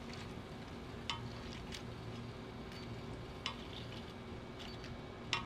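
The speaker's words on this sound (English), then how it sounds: "they are still sizzling here on the plate" Steady, faint crackling sizzle of food frying on a hot FIREDISC cooker plate, with a few sharp ticks and pops scattered throughout.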